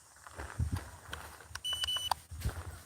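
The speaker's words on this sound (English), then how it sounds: "I shouldn't have to do that beeping sound for you to behave" A person makes short electronic-style beeps to get a dog to behave outdoors, a brief burst of beeping amid scattered quiet rustling and movement.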